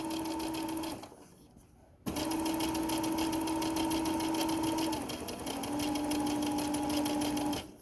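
A sewing machine stitches through thick layers of a tote bag, a close, steady motor hum that pauses briefly, then resumes and shifts slightly lower in pitch as it slows.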